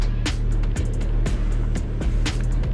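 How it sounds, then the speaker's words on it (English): A 2020 Suzuki Hayabusa motorcycle being ridden, its steady engine drone loud and close with a strong low hum, broken by regular clicks or bumps, with no talking. "We're here on the 2020 Hayabusa, taking you for a little ride today."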